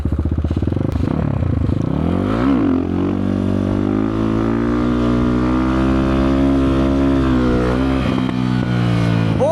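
Kovi Max 300 motorcycle ridden hard, its engine revving loudly and rising in pitch through repeated acceleration, with rapid throttle changes and a strong continuous roar close to the microphone, no talk.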